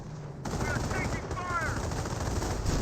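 An M2 machine gun barrage in the World War II strategy game Company of Heroes rattles in rapid sustained bursts, loud and close, with sporadic ricochet-like whines over the fire.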